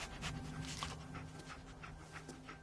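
Dogmeat, the dog companion in Fallout 4, pants in quick rhythmic breaths close by, soft and steady with a faint whimper.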